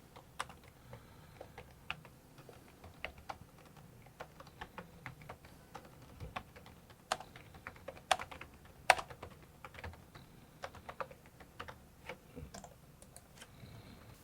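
Typing on a computer keyboard while entering message text in a payment-management program, heard as sparse, irregular keystroke clicks at close range, fairly quiet, with no talking.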